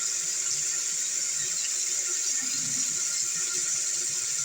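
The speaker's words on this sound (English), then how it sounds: "I put water on my stash. I'm soaking the bar." Running water splashes steadily over a beard and mustache soap bar being soaked before first use, a continuous near hiss from start to finish with no talking.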